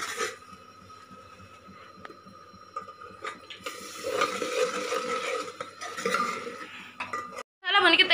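Ground masala stirred and roasted in a pan for aloo tamatar sabzi, with a metal spoon scraping and clinking against the pan, busy bursts of frying noise, and a louder clatter at the end.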